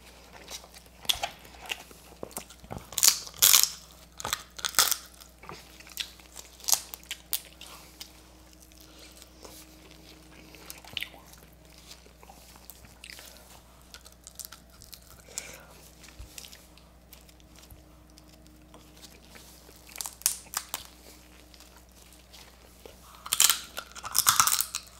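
Crunching bites and wet chewing of spicy Asian stir-fried crab during a mukbang, close-up and intermittent, with quieter stretches between bursts.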